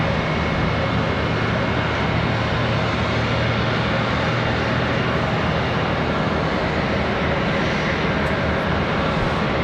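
A JetBlue airliner's jet engines at Charlotte Douglas International Airport give a constant, loud broadband roar that holds steady throughout, with no voices over it.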